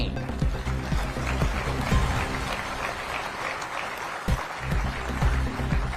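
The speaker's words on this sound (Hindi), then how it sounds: "तालियां कम बजी।" An audience at a political rally in Gwalior claps throughout, a dense continuous applause with a short lull midway before swelling again.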